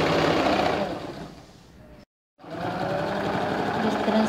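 A sewing machine stitches ladies' pants in a close, steady whir that eases down, cuts out for a moment of silence, then resumes at full pace.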